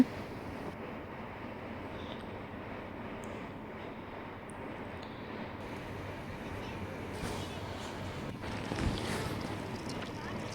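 Boat speeding over the sea off Ariyaman beach near Rameshwaram, with a steady broadband engine and water rush plus wind throughout, swelling slightly near the end.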